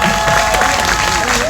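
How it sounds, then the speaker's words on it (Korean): Audience applause at a memorial ceremony for workers killed in industrial accidents, a dense, steady wash of clapping from a crowd that holds at an even level throughout. "박수 한번 주세요."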